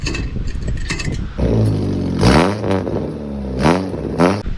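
A junk car built for racing, its exhaust rerouted up through the back into a stack, idles roughly then revs hard several times, the loud close engine note rising and falling in repeated bursts.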